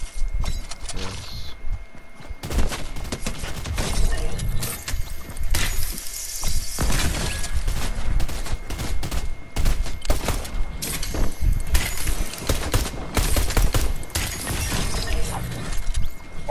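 Rapid assault rifle fire in a video game, dense bursts of shots with clattering impacts running almost throughout, loud and close, with brief quieter gaps.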